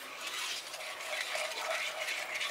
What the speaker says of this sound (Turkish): Önce tüm malzemeleri güzelce karıştırıyorum.